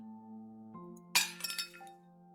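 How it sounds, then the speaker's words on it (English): A cup shatters in the Tiny Bunny video game, a sudden sharp crash of breaking glass followed by a few scattered tinkling bits over a quiet sustained musical tone. "A cup shattered into many little pieces with a loud bang."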